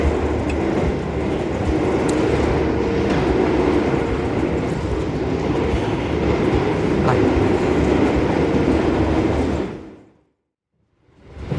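Stainless steel new-generation luxury-class carriage on the Taksaka train rattling and swaying over the tracks, a steady loud rumble with clatter that drops away abruptly near the end before returning.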